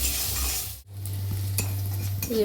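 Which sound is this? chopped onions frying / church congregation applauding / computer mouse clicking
chopped onions frying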